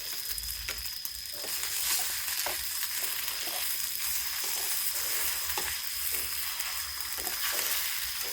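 Eggs frying in a small amount of oil in a pan over a morning cooking fire outdoors, a steady close crackling sizzle with scattered sharp pops and spatters throughout, no voices.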